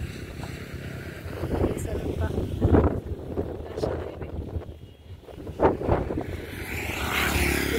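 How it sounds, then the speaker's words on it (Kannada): Wind gusts roar across an open roadside by paddy fields near a long bridge over the Brahmaputra River, a steady buffeting rush that swells and eases, with people talking over it. "ಒಳ್ಳೆ ಗಾಳಿ ಬೀಸ್ತಾ ಉಂಟು."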